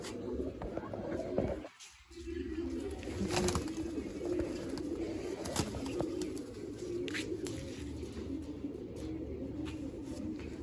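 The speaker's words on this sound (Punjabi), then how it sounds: "ਆ ਮਿੱਤਰੋ ਆਪਣਾ ਮੇਨ ਕਬੂਤਰ ਆ" Low, repeated cooing of a Kalsira pigeon continues steadily throughout, fairly close, with a brief dip in sound near the start and faint background noise.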